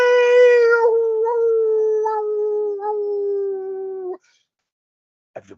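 A human voice imitates a wolf singing, with one long, loud, sustained howl that slowly falls in pitch and wavers for about four seconds, then cuts off into silence before a brief faint noise.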